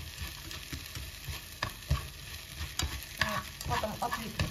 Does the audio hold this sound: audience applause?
no